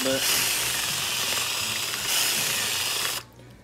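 A power drill with a small bit whirs loudly and steadily for about three seconds, briefly easing mid-run, then cuts off abruptly, leaving quiet room noise.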